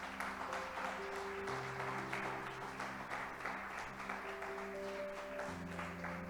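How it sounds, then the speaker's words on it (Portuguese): A church congregation claps together in steady, continuous applause, mid-level and sustained for several seconds, with held keyboard or organ chords playing underneath. "Vamos aplaudir Jesus,"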